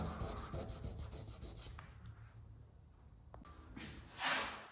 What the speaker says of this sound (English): both holes have been filled with this abrasive cloth. Just gently rub it flat.